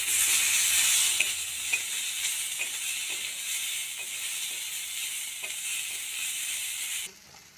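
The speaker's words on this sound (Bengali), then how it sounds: "এক চামচ জিরে গুঁড়ো। এবার এটাকে একটু নেড়ে চেড়ে ভেজে নেব।" Ground cumin frying in oil in a pan with ginger paste, stirred as it cooks: a steady bright sizzle with repeated soft scrapes and clicks of the spoon, ending abruptly.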